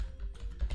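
Typing on a computer keyboard while entering a formula in an Excel spreadsheet: a short burst of close, quick key clicks with a couple of heavier keystrokes near the end.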